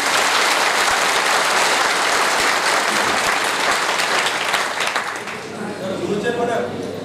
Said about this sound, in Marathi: त्या सगळ्या मास्तरांसाठी जोरदार टाळ्या.